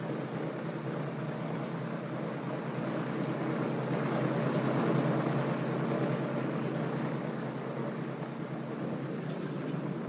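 A military transport plane taxis on the ground after touchdown, its engines producing a steady, loud broadband roar that holds constant throughout, swelling slightly midway, with no voices.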